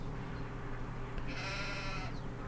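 Sheep on a ranch bleat once in a single drawn-out call over steady background noise, heard at moderate distance with no talking.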